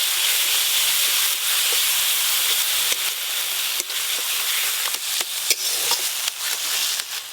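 Mustard paste, dried red chilli paste and turmeric fry in a pan with onion and tomato, giving a steady close hiss broken by scattered scraping stir clicks. No one speaks.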